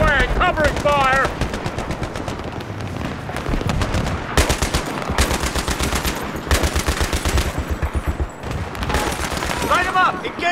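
Sustained automatic rifle and machine-gun fire rattles in dense, loud bursts during a Battlefield 3 combat mission, with brief gaps between volleys and shouted voices mixed in.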